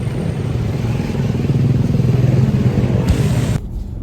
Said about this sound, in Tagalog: yan na po yung susundo sa atin. Yan ang motor.